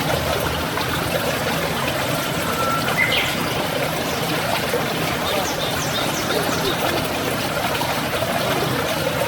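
River water flowing steadily on the way toward the Indian Ocean, a continuous broadband rush that stays even throughout, with faint bird calls above it.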